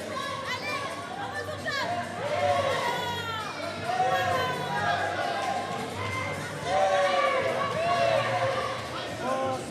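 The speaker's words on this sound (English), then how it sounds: "I wonder what these crowd reactions for Martinez is going to do for the judges." A dense crowd at an Apollo Fight Night combat event roars and chatters steadily throughout, with the noise swelling in waves around a contested bout involving Martinez.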